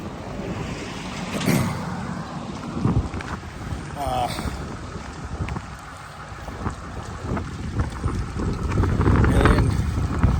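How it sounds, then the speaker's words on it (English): Gusty outdoor wind buffets the microphone in rough, continuous rumbling waves, loud and close throughout, with a few brief knocks. "now the wind picks up as soon as I step outside"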